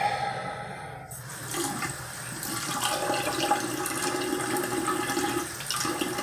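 Water from a tap runs steadily into a sink to rinse alum off a freshly shaved head, a continuous close splashing stream after a brief quiet start, with no talking.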